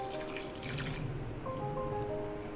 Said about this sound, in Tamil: இந்த ஸ்டேஜில் நாம் இதுக்கு தேவையான தண்ணியை கொஞ்சம் ஊற்றிக்கலாம்.